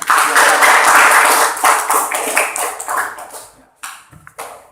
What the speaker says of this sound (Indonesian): Coba kasih tepuk tangan.